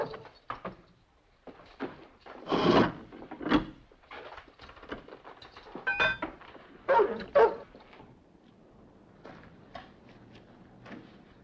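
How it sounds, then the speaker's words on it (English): A restless dog barks in short, sharp bursts, a few spaced woofs rising and falling at close range over a quiet room, with faint knocks between them and no talk. "Dog's a bit restless."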